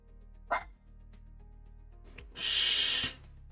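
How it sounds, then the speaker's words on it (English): A dog barks in the background of a live stream, with a short sharp yelp early on and a louder, broader bark burst near the end, distant and separated by quiet room tone. "my dog's in the background"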